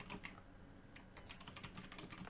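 Code being typed on a computer keyboard: a quick, quiet run of soft key taps, fairly close and steady, with no voice.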